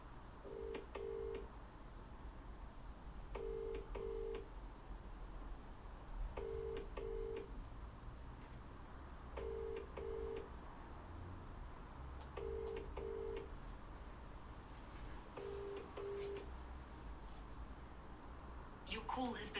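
A telephone call is dialed and then rings out, with six evenly spaced double-pulse ring tones sounding over a faint background hiss.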